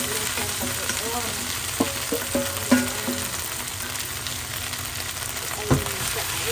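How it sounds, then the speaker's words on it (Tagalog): Home-dried shrimp sputter in garlic oil for homemade bagoong, a continuous sizzle broken by several clinks and taps of a utensil against the pan, plus a faint voice or two underneath. "So, ilagay ko na yung pinadry natin na shrimp."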